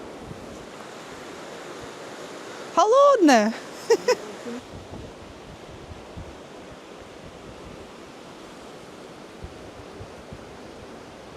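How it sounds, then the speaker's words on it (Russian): A river in a Bavarian gorge rushes in a constant broad roar, with a few spoken words heard briefly over the flowing water. "Тут такая река неплохая."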